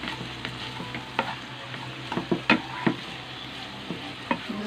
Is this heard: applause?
no